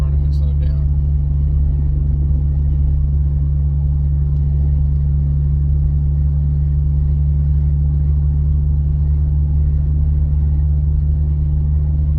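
Steady low engine drone and road rumble inside a car cruising at around 40 mph in traffic, continuous and even throughout with no talking.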